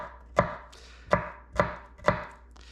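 A knife dices a medium onion on a cutting board: four crisp, separate chops in an uneven rhythm, close and fairly quiet, with no talking.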